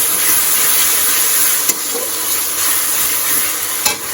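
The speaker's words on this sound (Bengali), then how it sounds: "মাংসর আলুগুলোকে ভাজছি এখানে" Potatoes for a meat curry fry in hot oil with a steady, loud sizzle throughout, broken by two brief sharp clicks of a utensil.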